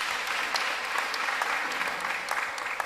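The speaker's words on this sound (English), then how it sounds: "just give her a round of applause" Audience applause at an opera concert and choral symposium in Kimberley, Northern Cape: dense, sustained clapping filling the whole stretch, steady and moderately loud with no voices over it.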